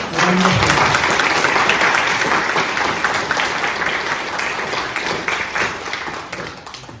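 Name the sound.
audience applause welcoming a speaker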